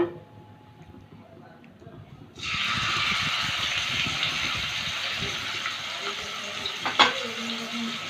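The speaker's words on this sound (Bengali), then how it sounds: "আধ ঘন্টা পর এখানে কড়াইতে সাদা তেল গরম করে নিয়েছি। চিকেনগুলোকে একটু ভেজে নেব।" Chicken pieces hit hot white oil in a wok: after a couple of quiet seconds a sudden loud hissing sizzle bursts in and holds steady, with a clink of utensil near the end.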